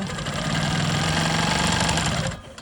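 A sewing machine quilts a dark blue rectangle on a rolling stone quilt block, whirring in a fast, steady buzz close up before slowing and stopping near the end.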